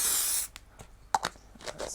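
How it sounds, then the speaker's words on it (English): An aerosol can of permanent, non-removable spray glue sprays onto paper over a plastic scrap for a kinetic card, a long close steady hiss followed by a few short sputtering bursts. "I'm going to actually spray glue this down because it will just be a lot easier"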